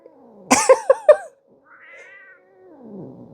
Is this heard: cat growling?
yes